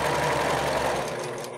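A sewing machine back stitching a baby blanket seam, running as a steady, dense hum of rapid stitching that holds close and even for its short length, then eases slightly at the end.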